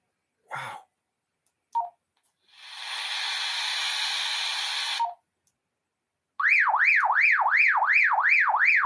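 An alarm siren on the 11 meter CB band comes through a receiver as a loud warbling, rising-and-falling tone, steady and alone, after short bursts of static hiss and noise.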